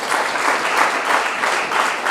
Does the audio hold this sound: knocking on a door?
no